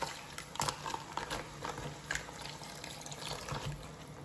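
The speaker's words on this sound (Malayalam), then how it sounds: "നമ്മൾക്കിനി ഇതിലേക്ക് നല്ല തിളപ്പിച്ച വെള്ളം ഒഴിച്ചു കൊടുക്കാം" Boiled water is poured into a crab roast masala in a pan, a faint splashing, trickling pour with a few small clinks, quiet and close.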